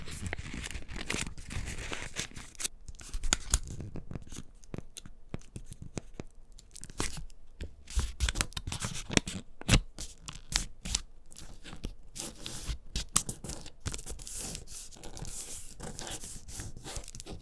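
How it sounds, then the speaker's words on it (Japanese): Origami paper is folded along lines into thirds, giving close, continuous crinkling and creasing with sharp crackles and rubbing throughout, with no voices. "赤い線を青い線に合わせて黒の線で折ります。"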